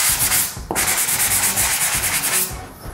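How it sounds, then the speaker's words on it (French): A sanding block is rubbed by hand over drywall joint compound in circular strokes, giving a close, steady rasping scrub that repeats in rhythmic passes, with no talking. "Pour bien poncer avec la cale, je vais faire des mouvements circulaires."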